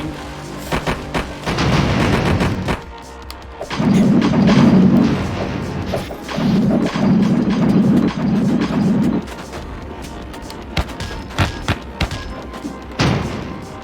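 Loud booming explosions and gunfire-like thuds from the riot video game Tonight We Riot, with heavy sustained blasts around the middle and scattered sharp bangs before and after.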